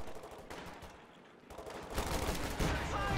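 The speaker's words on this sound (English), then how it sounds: "MG34 has repositioned to fire on these Thompsons again" Bursts of MG34 machine gun fire in a World War II tactical video game, quieter and sparse at first, then a denser, louder stretch of rapid shots in the second half, with other gunfire mixed in.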